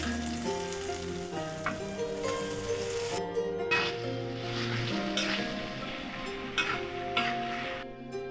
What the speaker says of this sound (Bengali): এখন আমার সিদ্ধ করা যে টমেটোগুলো ছিল সেটা আমি দিয়ে দিচ্ছি।